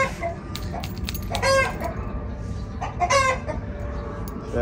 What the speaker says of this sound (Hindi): ये आपको इनकी मुर्गियां दिखाते हैं हम।